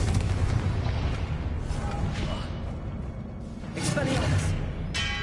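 A Confringo fire spell erupts in Hogwarts Legacy, a booming blast with rumbling low-end that swells midway over a noisy battle background.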